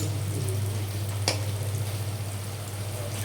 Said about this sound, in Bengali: এখন আমি বড়াগুলো ভেজে নিচ্ছি এক এক করে